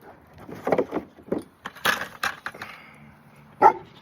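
Farm dogs give a few sharp, scattered barks, loud and close, with short gaps between them and a final louder bark near the end.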